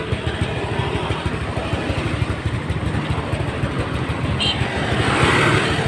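A motorcycle engine runs steadily and close by on a street in Dipolog City, with a rough, continuous throb that grows slightly louder near the end.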